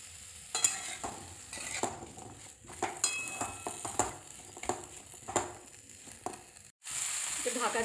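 Mango pickle is stirred in a hot pan for a sweet achar, with close, repeated scraping and knocking strokes over a steady sizzle, followed at the end by a louder burst of frying hiss.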